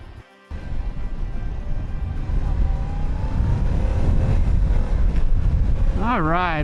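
A 2024 Yamaha R7 motorcycle under way, with a steady engine drone mixed with rushing wind buffeting the microphone, and a voice briefly heard near the end.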